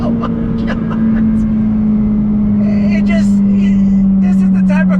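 A 2020 Ferrari F8 Tributo Spider engine pulls under throttle, a loud, steady droning tone that builds and swells over a few seconds, with people talking and exclaiming over it.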